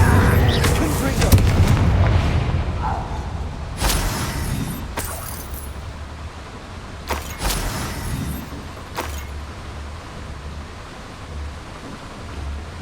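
Confringo fire spell explosions in the Hogwarts Legacy video game land as several loud booming bursts, each one abrupt and spread across a crackling, rumbling bed that fades toward a steadier wash, with game speech mixed in.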